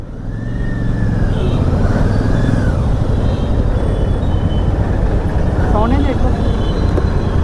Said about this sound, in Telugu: ఎగ్జాస్ట్ సౌండ్ వినండి